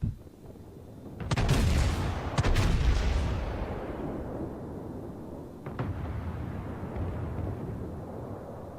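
Battleship main guns fire at a Gearing destroyer in World of Warships aboard the Amagi, a deep booming salvo swelling into a long rumbling roar, then a second, smaller blast fading into a low echoing tail.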